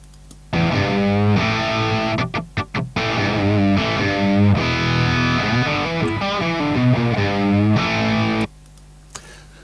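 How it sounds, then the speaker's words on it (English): A heavily distorted electric guitar played through a Two Notes virtual cabinet plays sustained chords and riffs with brief choppy stabs, loud and close, then stops abruptly near the end. "once we start introducing a little bit of distortion into the mix"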